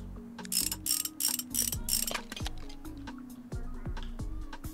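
Mechanical clicks, ratcheting and tool clatter from tightening the front suspension of a motorcycle in the video game Motorcycle Mechanic Simulator 2021, a dense run of short metallic hits with bright bursts early on, with no talking.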